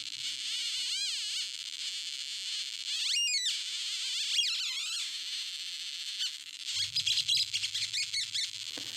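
A light-controlled 555 timer circuit gives a loud, high-pitched electronic tone that warbles and sweeps up and down in chirp-like glides. A low buzzing hum joins in near the end.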